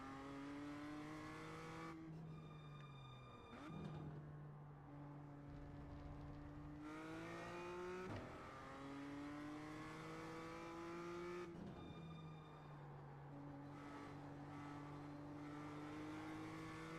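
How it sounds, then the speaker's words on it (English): A race car in a racing video game revving hard through the gears, the engine pitch climbing and dropping with each shift across several accelerations, steady and continuous with no talk. "This car sounds really good on this game."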